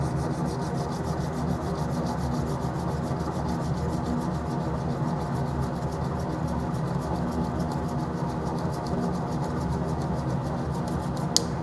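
Steady, continuous rasping scrape of a fine-toothed flush cut saw working through wood, close up and unbroken, with no pauses between strokes.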